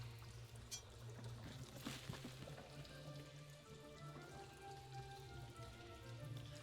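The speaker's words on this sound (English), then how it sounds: "The water pours from a hidden crack." Water pours steadily from a hidden crack in the Shadowgate 2014 remake, a faint, continuous splashing trickle with no voices.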